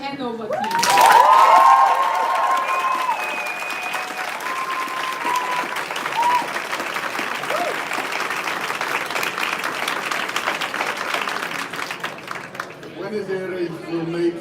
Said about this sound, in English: Please also give a special applause to Hanover team.